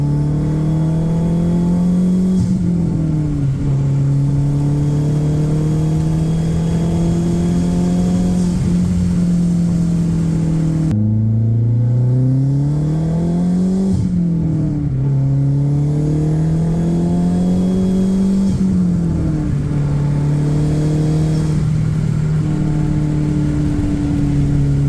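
A Mazdaspeed 3 fitted with a Corksport CST4 turbo cruises and builds boost, its engine note rising and falling steadily through gear changes, loud and close with no one talking.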